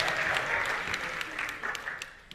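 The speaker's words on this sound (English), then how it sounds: "So can we give a big applause to her?" An audience applauds a speaker at a talk show-style event, steady dense clapping filling the room for a couple of seconds before starting to thin out.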